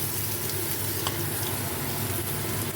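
Bora fritters sizzle in hot oil, giving a dense, constant crackling hiss at moderate volume with a few small pops.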